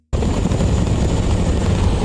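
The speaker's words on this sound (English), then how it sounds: "Those helicopter rotors all combined like that had to be so loud in the theater." Loud, close helicopter rotors from a film soundtrack thump rapidly and continuously, a dense low chopping roar that starts abruptly and never lets up.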